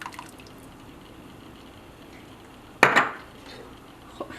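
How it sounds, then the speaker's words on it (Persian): A single clear liquid splash and clatter sounds at a pot as brewed saffron goes into simmering fesenjan stew. It is brief, fairly close and alone, with faint kitchen quiet around it and a small tap near the end. "توی این فاصله که فسنجون داره جا میفته یه مقدار برای خوش رنگ شدنش زعفرون دم کرده میریزم"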